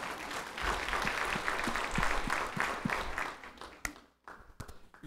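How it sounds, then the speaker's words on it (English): A church congregation claps in a sustained round of applause, then thins to a few scattered claps and faint sounds as it dies down. "Let's give him a round of applause."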